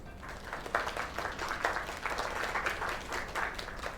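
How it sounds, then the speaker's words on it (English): Applause in the video game Lake, quiet and steady rounds of clapping with distinct hand claps standing out in the crowd for a few seconds. "Another round of applause"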